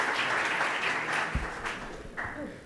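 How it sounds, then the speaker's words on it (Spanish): Audience applause at a Spanish-language mining industry panel on transparency and sustainability, a steady dense wash of clapping that fades slightly toward the end, with a few voices briefly audible near the close. "creo que se merecen un aplauso"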